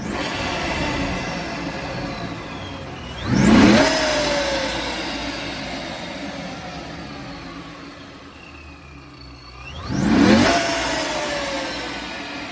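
A stock 2005 Ford Mustang with a three-valve engine and a non-intercooled Paxton supercharger revs twice. Each rev rises sharply with a rising supercharger whine, then falls back to a steady idle, close and loud, with no talk.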